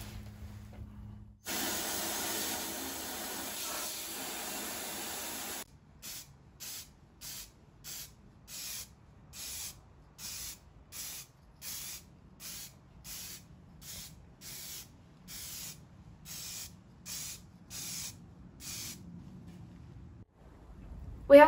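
Grit blaster blasting the angled parts of a snow plow frame during a Bolens HT replica build: a steady hiss at first, then repeated short bursts of blasting with brief pauses between them, fairly quiet and with no talk.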